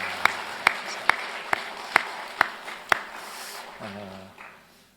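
A church congregation claps for its choir in seven sharp, evenly spaced beats in unison, followed by a brief voice as the room settles.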